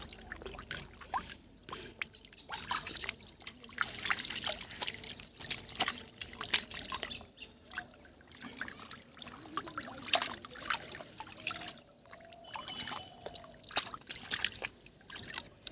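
Water splashes and trickles as carp are released into a pond, an irregular run of close pours and splashes with dribbling water throughout.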